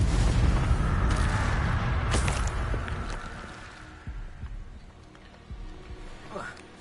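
An Incendio fire spell is cast in the video game Hogwarts Legacy, bursting with a loud whooshing roar that fades into rumbling crackles, while a player voice talks over it.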